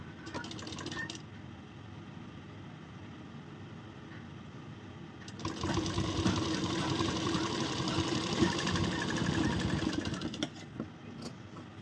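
An electric sewing machine stitches the folded edges of a corset blouse along its boning strip, running quietly at first, then breaking into a louder, fast, continuous mechanical whir for several seconds before easing off.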